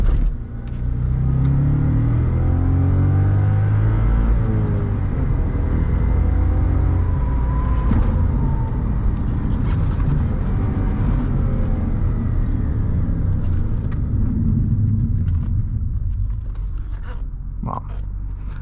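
A 2010 Audi S5 with a six-speed manual gearbox drones and rumbles steadily from inside the cabin as it drives, with faint clicks and rattles near the end.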